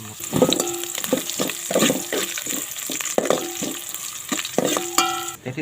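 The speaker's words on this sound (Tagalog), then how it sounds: "Gisa tayo." Native chicken sautéing in oil in a pan for tinola, a busy sizzle and frying hiss broken by repeated scraping stirs and clinks of the utensil, close and fairly loud, with no talking.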